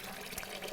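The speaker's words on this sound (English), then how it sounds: "So I'm just going to keep pouring off seeds and pulp until I get to where I only have clean seed left." Water poured off tomato seeds and pulp in a container makes a brief, steady splashing trickle, close and fairly quiet, with no voices.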